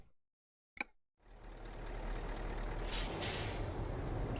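Heavy-haul truck in Euro Truck Simulator 2 with its retarder engaged: a brief air-brake hiss, then a steady, loud broadband roar that swells and holds, with a hissy burst partway through.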